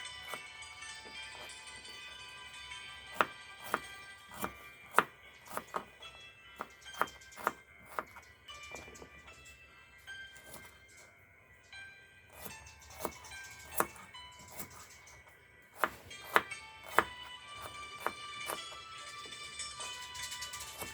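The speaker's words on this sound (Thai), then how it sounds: "หัวหอมเราหั่นตามยาวนะคะ" A knife slices onions lengthwise on a cutting board, crisp repeated taps at an even pace, with faint tinkly music playing underneath.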